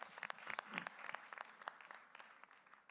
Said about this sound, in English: Can we get a round of applause for that insert?